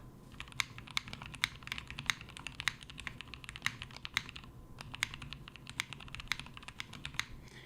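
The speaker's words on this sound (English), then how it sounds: "those keys, they sound completely different" Keys on an Instant60 mechanical keyboard clack in a fast, uneven stream of crisp, sharp taps while someone types steadily, close and clear with no talking.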